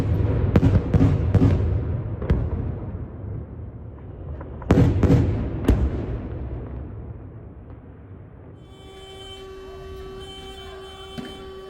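Explosions striking Lebanon: several deep booming blasts in quick succession, then another heavy cluster of booms, each followed by a long rumbling decay into a quieter hum.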